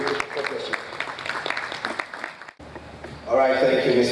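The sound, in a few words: audience applause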